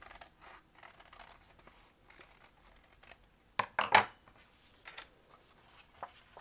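Scissors snip through paper along a drawn heart outline for a heart cactus craft, with quiet, irregular cutting and rustling close by, and a few sharper crisp snips near the middle.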